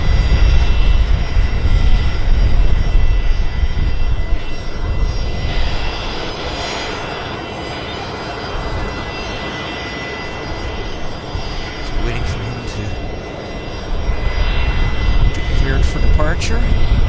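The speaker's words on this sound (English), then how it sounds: "Star Alliance Air Canada A321 turning onto the active" An Air Canada A321 jet lines up and departs from a runway at Vancouver Airport in strong winds, giving a loud, steady roar of jet engines that swells and fades over time, with a voice talking over it.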